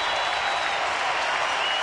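A baseball stadium crowd rises and applauds with two strikes on the batter in support of pitcher Brian Wilson, a dense, steady roar of clapping and cheering that fills the space.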